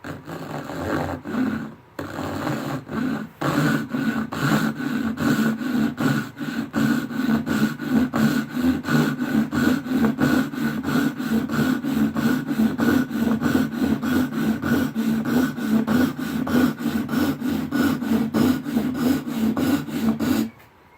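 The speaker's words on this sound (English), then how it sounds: "I'm cutting really straight lines, really thin kerf. This is a piece of maple, by the way, pretty hard wood" A hand saw cuts a thin kerf through a piece of hard maple clamped in a vise, giving a steady, close rasping stroke rhythm for about twenty seconds after a brief start.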